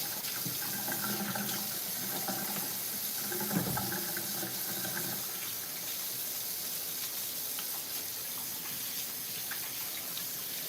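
A kitchen tap runs steadily while hands are rinsed during soda bread baking, a continuous close splashing flow with brief shifts in the stream, and no talking.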